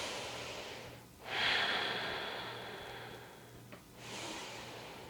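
Slow, audible breaths during a yoga low lunge: a long airy inhale and exhale, then a second breath starting, close and soft with no talking.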